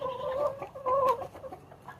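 Young pullets on a homestead farm cluck softly in a few short, close murmuring calls with brief pauses, quiet and without speech.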